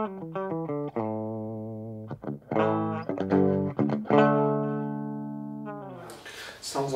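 A guitar played clean through a small combo amp, notes ringing out one after another and sustaining, with a brief burst of noise near the end.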